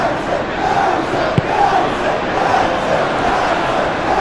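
A stadium crowd in the PES 21 football video game, Manchester United vs Brighton, roars steadily with a loud, continuous cheer and chanting swell, close and dense throughout.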